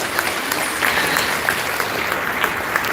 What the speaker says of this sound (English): we're going to applause for all our sponsors